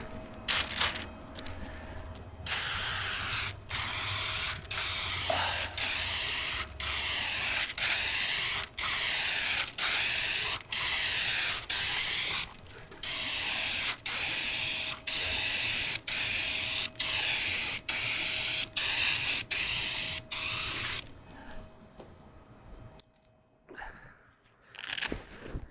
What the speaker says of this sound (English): I'm gonna spray, I think I'll probably spray one more coat on here